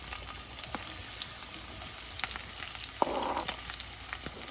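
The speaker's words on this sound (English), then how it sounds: "I'm gonna start off by sauteing my onions." Onions sautéing in a pan over medium heat for Jamaican ackee and saltfish, a soft steady sizzle with scattered crackles and a brief louder burst partway through, no talking.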